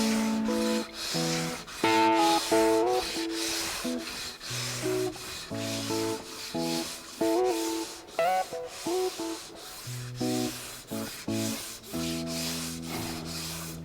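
Sandpaper at 240 grit rubs back and forth over a guitar fretboard in steady, loud rhythmic strokes, close up, with a tonal whine from the surface on each pass.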